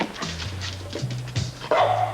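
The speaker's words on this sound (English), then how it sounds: "Come here, you bad dog." A dog outdoors on a cold night in a neighborhood gives a run of short, close barks and yips, several in quick succession, loud and with no talk over them.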